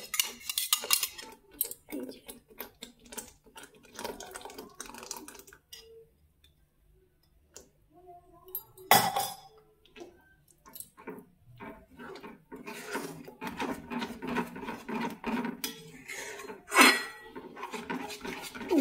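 A utensil stirs beaten curd into a simmering curry in a pan over very low heat, giving repeated close metallic scrapes and clinks in uneven bursts, with a quiet pause partway through and no talk.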